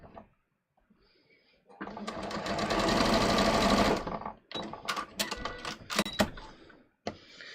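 A sewing machine stitches strips of pleated fabric, running in one steady, loud whirring burst of about two seconds, followed by scattered clicks and handling knocks.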